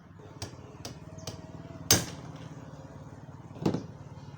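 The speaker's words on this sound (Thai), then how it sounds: "เป็นค้อนตอกนะค้อนตอก" A hammer strikes a steel drift to drive the shaft out of an 18-inch Hatari table fan, giving several sharp metallic blows, one loud ringing hit near the middle and another later, close by over faint background noise.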